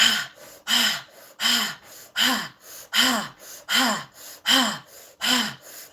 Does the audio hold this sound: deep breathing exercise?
yes